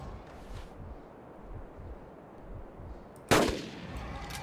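A single sharp gunshot cracks out in the dinosaur-hunting game Carnivores: Dino Hunt, over a quiet, low background rumble.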